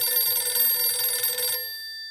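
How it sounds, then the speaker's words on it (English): An old telephone bell rings loud and close in a Sherlock Holmes radio drama, a bright sustained trill that cuts off abruptly and leaves a fading ring. "is that the phone I hear ringing again?"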